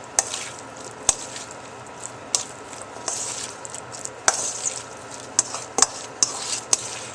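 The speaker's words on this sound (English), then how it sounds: "you just want to mix it all together" Guacamole ingredients being stirred and tossed together in a bowl, soft wet squishing and scraping with scattered sharp clicks of the utensil against the bowl, close and fairly quiet, with no talking.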